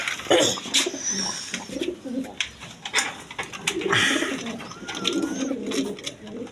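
Domestic pigeons kept as breeding pairs with eggs coo over and over in a loft. The soft, throaty calls come through with scattered clicks, wing and cage noises. Nobody talks.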